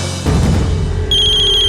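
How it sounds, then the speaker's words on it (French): A telephone rings with a sudden electronic tone that starts partway through, loud and close, following a short burst of background noise. "Téléphone."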